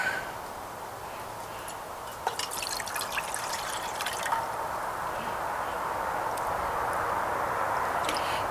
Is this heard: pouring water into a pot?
yes